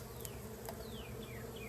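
Honeybees buzz steadily around a beehive, a dense, continuous drone close by with a few individual bees sweeping past, no voices.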